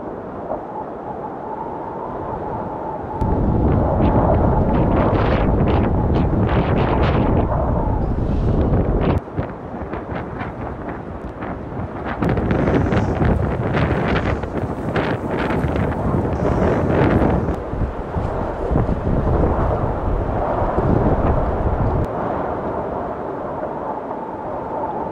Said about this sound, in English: Just check the wind, 65 miles an hour up here.